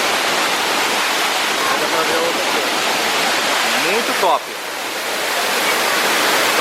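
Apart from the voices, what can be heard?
waterfall in the forest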